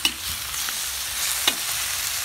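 Meat frying in a pan with its oil rendering out, a steady close hiss of sizzle with a brief stirring scrape, no voices.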